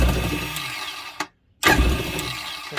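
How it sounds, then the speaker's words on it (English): Kawasaki jet ski starter spinning without turning the engine, a rough mechanical whir that cuts out abruptly into a brief silence, then resumes just as loudly. "that noise you're hearing, is the starter spinning, but it's just not turning the engine"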